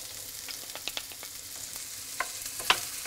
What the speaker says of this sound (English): we're going to let this go until the speck has become soft and is starting to exude some of its fat and is beginning to get a little bit crispy